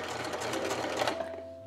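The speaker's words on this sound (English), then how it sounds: "I'm going to stitch a few stitches and then backstitch to secure that stitch." A sewing machine running a rapid, steady burst of stitches forward and back to secure a makeup bag strap, close and clear with no talking, fading to a faint hum at the end.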